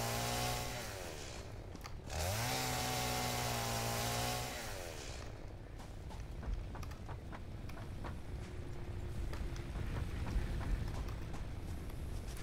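In the video game Satisfactory, a chainsaw revs with a rising whine, then chews steadily through trees, a loud continuous buzz with rattly texture and cutting crackles.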